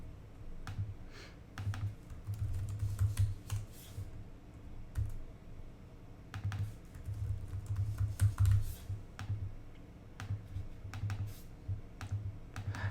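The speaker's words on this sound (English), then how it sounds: "after I finish typing" Someone types code on a computer keyboard at close range, with irregular bursts of quick, light key clicks separated by brief pauses.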